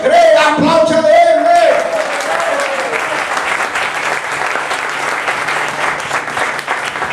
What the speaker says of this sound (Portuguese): Quem crê, aplaude a Ele.